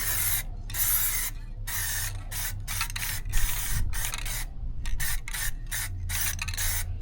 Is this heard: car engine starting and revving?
no